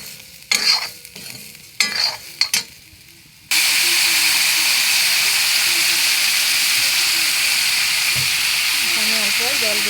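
Water poured into a hot pan while cooking Maggi noodles: a few short scrapes and clinks come first, then a loud, steady steam hiss that runs on unbroken to the end, close and dominant.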